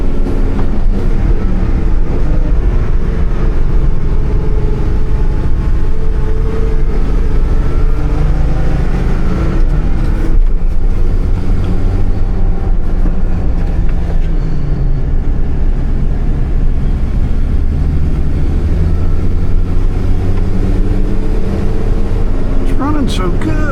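An old Ford pickup's engine labors uphill, a steady low droning rumble running throughout with a person talking over it.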